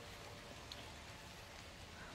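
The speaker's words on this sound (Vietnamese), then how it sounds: "Bây giờ trời đang mưa các bạn ơi." Rain falls at a Vietnamese flower nursery, a steady, faint, even hiss of drops that runs unbroken with no voices.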